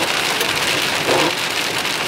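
Steady rain pours onto the roof and body of a car, a dense, even hiss of drops that stays close and constant throughout, with no talking.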